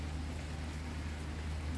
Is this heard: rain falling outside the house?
yes